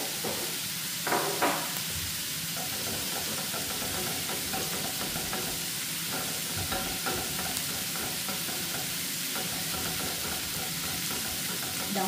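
Meat warms in butter in a pan with a continuous soft, even sizzle and hiss lasting throughout, with a few faint clinks near the start and no speech.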